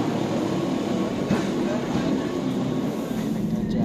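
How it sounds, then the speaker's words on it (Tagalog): A steady low rumble of a moving train in Switzerland fills the whole stretch, with constant rolling noise and faint rattling, heard from inside or close by. "Pasakay naman tayo ngayon sa tren."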